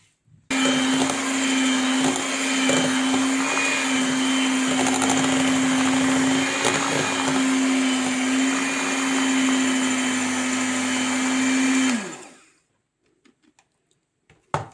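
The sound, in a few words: blender whipping ice cream mixture again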